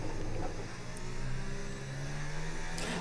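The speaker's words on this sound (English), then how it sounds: "Like Jared, can you hear my voice over the sound of the Formula One car?" A Formula One car engine in the F1 25 racing game at Circuit of the Americas holds a steady, high, buzzing drone throughout, with no talking over it.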